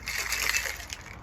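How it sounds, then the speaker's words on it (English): Water dumped out of a cocktail glass before a drink is strained: a short, close wet slosh and splatter with a faint clatter, moderately loud. "So we're going to get rid of the water."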